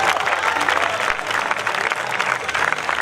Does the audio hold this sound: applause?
yes